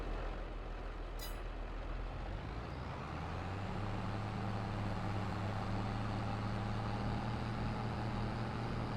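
A tractor with a fertilizer spreader in Farming Simulator 22 rumbles along steadily, its engine settling into a low, even drone after a brief air-brake hiss near the start.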